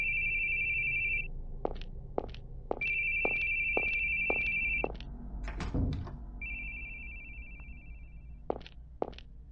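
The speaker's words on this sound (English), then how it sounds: "That phone, we keep hearing it and it keeps disappearing." Telephone ringing in the horror video game The Boogieman: repeated electronic ring bursts, alone with a few soft thuds and footsteps between rings.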